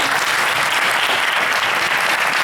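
Steady, dense applause from an audience at a Jain talk on the path to happiness, loud and continuous for the whole stretch with no voices over it.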